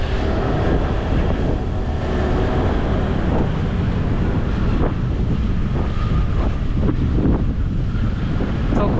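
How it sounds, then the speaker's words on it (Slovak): Strong, gusty wind roars across the microphone during a scooter ride on Ko Sichang island, loud and continuous, with faint engine and road rumble underneath and no talking. "Nárazový vietor"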